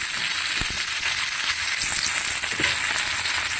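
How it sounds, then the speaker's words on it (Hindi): Onions and green chillies fry in a pan with a steady, close sizzle and crackle that runs throughout, with occasional faint stirring noises and no talking. "अब ये प्याज, हरी मिर्च, इसको मैं थोड़ा फ्राई करूंगी।"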